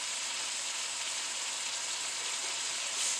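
Steady, hissing sizzle of green beans and potatoes frying in a pan, continuous and close, with no talking.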